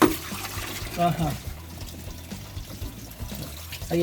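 Water pours and trickles out of a car as the radiator and water pump are changed, an uneven splashing flow heard beneath a man's speech.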